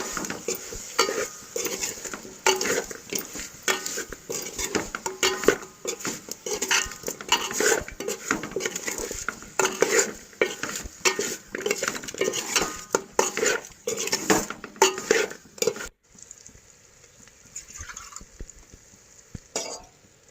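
Chicken curry with turmeric being stirred in a pan, with a steady scraping of a spoon against metal and a light sizzle for most of the stretch, then stopping near the end and leaving a quiet cooking hiss.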